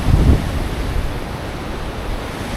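A small waterfall in Iceland rushes in a steady, loud wash of broadband noise with some wind buffeting, and no voices.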